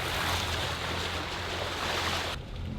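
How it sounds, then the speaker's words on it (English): Wake waves from a boat roll across the open ocean near the equator, a broad steady rushing wash mixed with wind, loud and close. The sound stops abruptly near the end. "Our waves from our boat are the only waves on this section of ocean."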